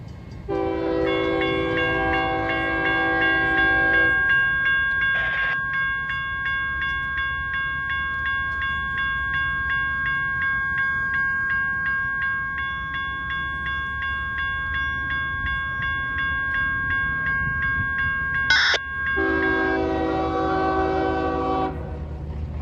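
A train in Plant City, Florida rolls past with a steady rumble, its horn sounding long blasts at the start and again near the end, while a crossing-bell-like tone rings continuously in between.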